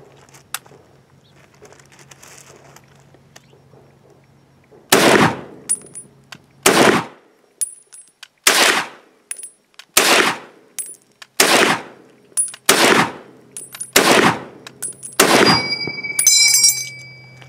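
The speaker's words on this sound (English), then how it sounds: "his first shots with the M1 Garand" An M1 Garand rifle fires at a range: about nine loud, sharp shots come one after another at roughly one-second intervals, each ringing out briefly, with faint background noise before the first shot.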